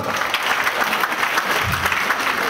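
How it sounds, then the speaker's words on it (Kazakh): Audience applause fills a short stretch, dense and steady throughout, with a faint voice briefly underneath near the end. "шапалақ қошемет"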